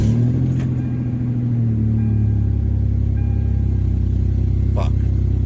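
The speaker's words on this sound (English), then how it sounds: "the truck started to make this noise" A truck engine idling and rumbling with an odd low drone and steady harmonic whine, loud and continuous throughout, with a brief muffled voice near the start.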